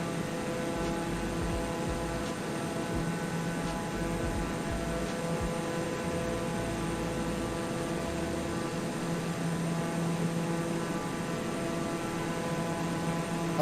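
Steady, unbroken cockpit drone of a TBM 930 turboprop flying over Southern California in Microsoft Flight Simulator 2020, a constant engine hum with no speech.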